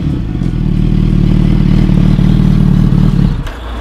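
A Suzuki B-King motorcycle revved at full throttle during a sound-level test, a loud, close, deep engine roar held steady for about three seconds before dropping off abruptly.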